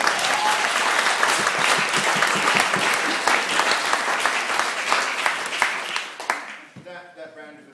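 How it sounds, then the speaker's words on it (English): Wedding guests give a sustained round of applause during a speech, loud dense clapping for about six seconds that tapers off, followed by a voice speaking. "So I'd like another round of applause"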